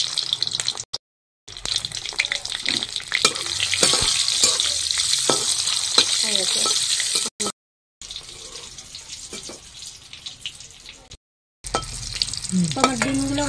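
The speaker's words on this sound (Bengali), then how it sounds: "আমি ডিমগুলো ছেড়ে দেবো, সামান্য একটু নুন দিয়ে দেবো" Eggs frying in hot oil in a heated wok with a pinch of salt, crackling and spattering loudly and close, broken by brief silent cuts, with no talk.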